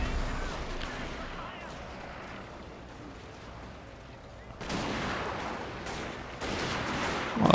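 Gunfire from troops laying down suppressing fire in the strategy game Total War Shogun 2: Fall of the Samurai, rolling volleys of distant musket shots crackling in bursts over a battlefield rumble, louder toward the end.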